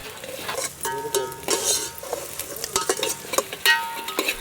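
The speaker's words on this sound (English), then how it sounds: "Heat some coconut oil, fry the chopped onion and fresh green chilies." Chopped onion and green chilies fry in coconut oil, a light sizzle broken by clinks and scrapes of a metal utensil against the pan, close up, without voices.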